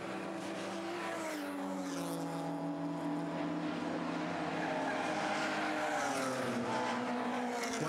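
BMW race cars in an open-class race at Pukekohe, a steady roar of several engines with rising and falling revs as they pass, heard from a distance at moderate loudness with no talk.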